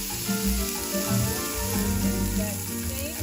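Lima beans sauteing in beef grease in a pan for a Haitian vegetable stew, giving a steady close sizzle and crackle with small stirring bumps.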